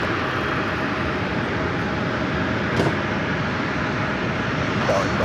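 A JetBlue Airbus A220-300 jet arriving from JFK gives a steady, broad engine roar at an airport, constant and fairly loud, with people talking over it.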